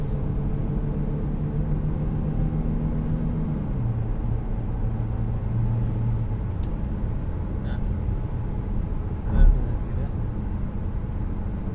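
A 2011 Opel Astra J Cosmo engine heard from inside the cabin while downshifting, a steady low drone whose pitch drops partway through, then a brief thump near the end.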